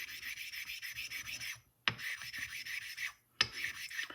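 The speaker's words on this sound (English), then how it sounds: "I just sort of rub steel on stones." A steel blade scrubs back and forth on a sharpening stone with slurry, a gritty rhythmic rasping that continues in bursts, broken by two short pauses and sharp clacks, close and alone.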